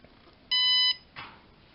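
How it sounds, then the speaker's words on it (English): A single short electronic beep from a low battery voltage sensor sounds clearly, a steady high tone lasting under half a second, against a quiet background. "now my sensor's beeping at me because the voltage in that little volt battery is too low"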